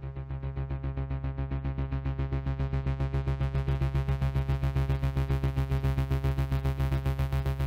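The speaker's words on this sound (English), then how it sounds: "what actually makes this piece going is kind of tremolo effect on a drone" A steady drone pulses rapidly under a tremolo effect, its volume throbbing in an even rhythm that grows slightly brighter and denser over several seconds, with no voices.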